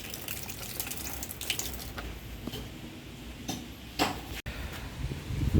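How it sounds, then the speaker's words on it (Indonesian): Water splashing and trickling over a freshly made mullet fishing rig to cool it, a quiet, uneven pour with a few brief splashes near the end. "Langsung kita celupin ke air dingin atau disiram"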